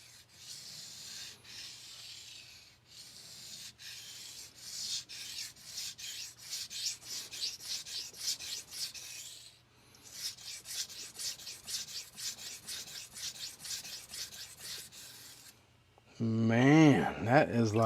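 A knife blade rubbed back and forth on a King resin bonded diamond 1k whetstone, a gritty rhythmic scraping in repeated strokes with a short pause midway, close and fairly quiet, followed by a brief voice at the end.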